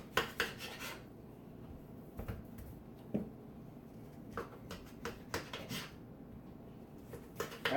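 A knife cuts boiled potato slices into quarters on a board, giving quiet, scattered taps and soft scraping clicks with brief pauses between cuts.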